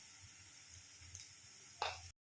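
Onion fries lightly with garlic paste in a pan, giving a faint, steady sizzle with a couple of soft stirring scrapes near the end before it cuts to silence.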